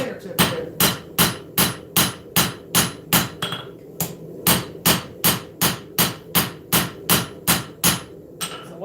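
Hot steel hammered on an anvil while forging a knife: about twenty loud, ringing blows in a steady, even rhythm with a brief pause near the middle, close and without talk.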